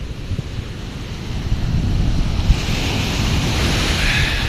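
Sea waves wash against a beach shoreline with high water at sunset, a steady rushing surf mixed with gusty wind noise on the microphone, with no talk.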